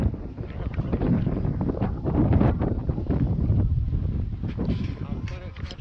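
Steady wind buffets the microphone with a low rumbling roar, and a voice talks faintly beneath it.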